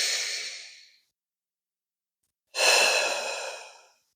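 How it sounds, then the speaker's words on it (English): Two deep, slow breaths from a person, each a soft airy rush close to the ear fading out over about a second, separated by a stretch of silence. "Take a breath with me."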